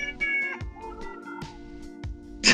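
Indoor house cat meowing repeatedly, several close, drawn-out meows in a row with short breaks, ending in a sharper louder call, heard alone without talk.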